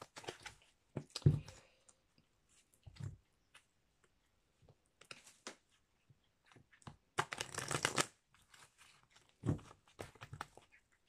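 Oracle cards being shuffled by hand in short bursts, quiet riffling and flicking separated by pauses, with one longer, louder shuffle partway through; close, no talking.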